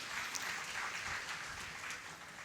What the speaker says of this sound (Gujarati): આ બંને સંતોને એકવાર જોરદાર તાળીના નાદે વધાવીએ